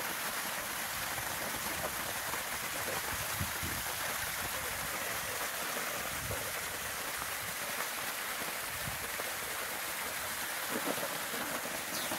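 Water falls from about 150 feet at a rural Konkan village spot, making a dense, unbroken rushing roar that stays even and loud throughout with no pauses. There is no talking.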